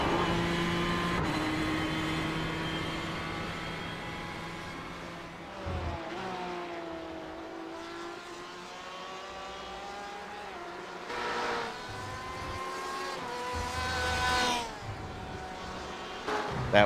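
A GT race car in a racing game finishing a lap of Road Atlanta: a loud engine whine that rises and falls through gear changes, with revs swelling again toward the end.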